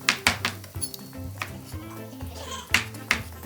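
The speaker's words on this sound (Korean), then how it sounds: "이런 다음에 잘게 잘라주세요." A knife chops ingredients finely on a board in a home kitchen while mussel soup with wine is being prepared. Quick, close, crisp taps come in uneven bursts over a faint background.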